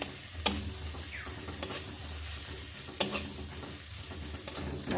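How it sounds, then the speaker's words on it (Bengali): Spice paste frying in a pan for Bengali fish chachchari, a soft steady sizzle with scraping stir strokes and a couple of sharp clinks of a spoon against the pan. "মশলাটা ভালো করে কষা কষানো হয়ে গেলে তেল ছেড়ে গেলে"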